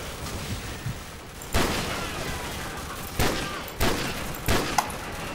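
Dragunov sniper rifle fire in Call of Duty: Modern Warfare cracks out in four sharp, spaced shots over a noisy, rumbling battlefield background.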